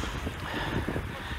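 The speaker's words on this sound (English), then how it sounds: "here it is very windy" Strong wind gusts on the Polish seaside, a steady broad roar buffeting close against the microphone for a moment, with no voices.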